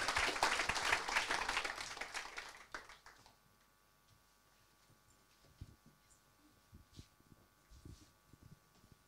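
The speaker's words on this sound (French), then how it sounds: "Je pense qu'on peut tous les deux les applaudir très fort" A conference audience gives two speakers a warm round of applause that lasts about three seconds and fades. Afterward the room goes quiet with faint scattered shuffles and small noises.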